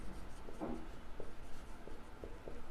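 A pen scratches across paper while accounting entries are written out, soft intermittent strokes with short pauses between them, close and steady against faint room noise.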